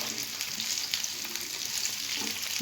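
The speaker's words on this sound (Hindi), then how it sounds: "अब इसमें भिंडी डालेंगे। इसको भी साथ भूनेंगे अच्छी तरह से" Okra frying in a pan, a steady soft sizzle with faint crackles and occasional scraping of a stirring spoon, fairly quiet and close, with no talking.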